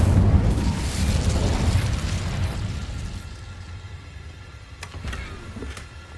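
A fiery Incendio spell blast in Hogwarts Legacy erupts with a loud whooshing burst that fades into a crackling rumble, followed by faint sharp clicks.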